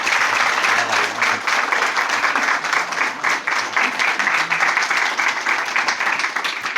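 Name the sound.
audience applause welcoming speaker Aldo Linares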